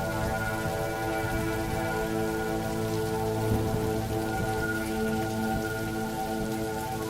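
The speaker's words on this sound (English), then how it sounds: "As the rain continued its gentle symphony outside" Gentle rain falls on green leaves in a steady, even patter with no breaks, soft and continuous, accompanied by sustained low tonal hum layers and no voices.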